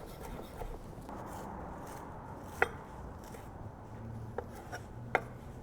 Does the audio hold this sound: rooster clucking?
no